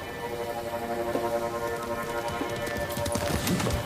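Horse hooves clip-clop at a steady trot in the samurai game Ghost of Tsushima, a moderate rhythmic patter over a continuous rustling ambient bed, growing slightly busier toward the end.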